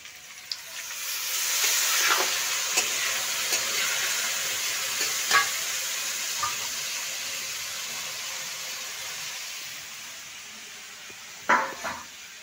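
Spices stirred and fried in a pan with peas, a steady close sizzle and hiss running throughout, with occasional sharper scrapes and clinks of the spoon against the pan.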